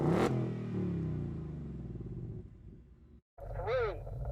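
Ford Mustang GT V8 holding revs on launch control at a drag strip, a loud steady engine drone that cuts out briefly before rising again with a higher whine near the end.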